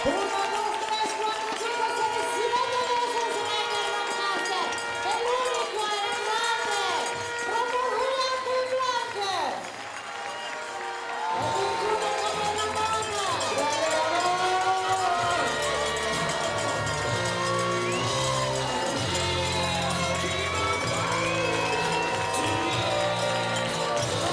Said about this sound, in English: the crowd are going wild for it as well